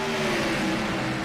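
Race cars accelerating hard at a restart in the Daytona 200 at Daytona International Speedway, a dense, steady roar of several engines winding up together, loud and continuous.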